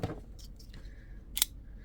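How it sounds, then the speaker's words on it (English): A sharp pocket knife from a Walmart Ozark Trail haul slicing through a sheet of paper, giving a brief crisp swish and papery rasp in a quiet room, closing with a short cutting snap. "So let's do a paper cut test"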